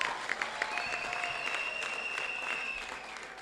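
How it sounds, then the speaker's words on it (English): Steady applause from the audience at a university graduation ceremony, a dense, even patter of many hands clapping at moderate loudness, continuing throughout without talk over it. "Let's give him a round of applause."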